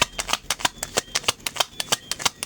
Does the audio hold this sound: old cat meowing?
no